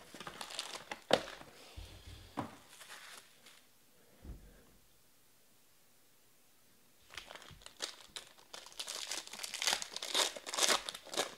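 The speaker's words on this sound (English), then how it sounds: "Peel the top of the boxes off here." Cellophane wrapping and cardboard tops are peeled from 2020 Topps Inception Baseball trading card boxes, giving bursts of close crinkling and tearing at the start and again in a longer, busier stretch at the end, with a quiet pause between.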